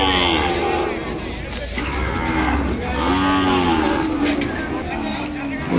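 Ongole cattle at a bull market low in long, deep moos, two or three drawn-out calls close by over a background of crowd chatter and people talking.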